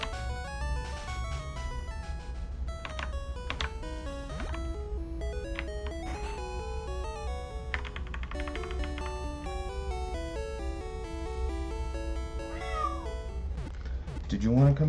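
A pet cat meows close to the microphone while a game's melodic music plays steadily underneath and a voice talks.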